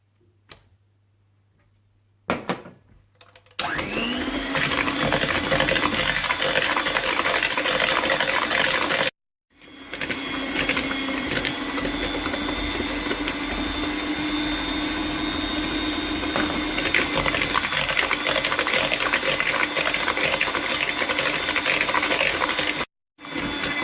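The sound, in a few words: electric mixer beating eggs into carrot cake batter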